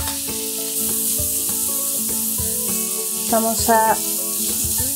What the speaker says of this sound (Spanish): Ahora vamos a sofreír la cebolla picada.